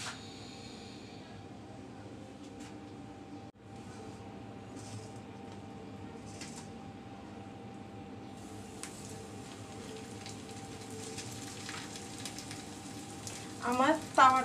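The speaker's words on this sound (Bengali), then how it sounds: "এই তো মিডিয়াম টু লো আঁচের মধ্যে একটা একটা নাস্তা দিয়ে ভেজে নিব।" Potato-filled snacks fry over medium-low heat on a small tawa, giving a steady faint sizzle throughout with a few louder crackles and spatters toward the end.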